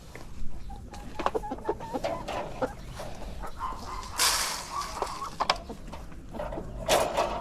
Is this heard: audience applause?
no